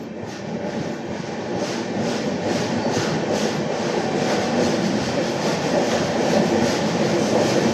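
Pune-Howrah Azad Hind Superfast, an LHB-coach passenger train, rolling at speed: a loud, steady rumble of wheels on track with a faint rhythmic clatter, heard continuously from on board.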